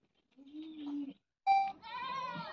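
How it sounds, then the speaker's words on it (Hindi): A first-time goat in labour gives two bleats, a low drawn-out cry and then a louder, higher wavering call, close by and without talk. "ये फर्स्ट टाइमर बकरी है, पहली बार बच्चा देने जा रही है।"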